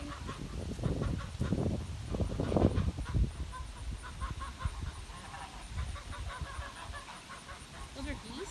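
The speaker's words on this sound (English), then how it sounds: "Well, they certainly sound like geese." Geese at a drive-thru zoo honk repeatedly from a moderate distance, with a busy outdoor background and people talking over the calls.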